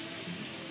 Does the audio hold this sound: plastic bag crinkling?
no